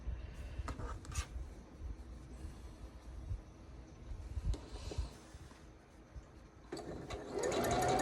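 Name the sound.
sewing machine sewing a quilt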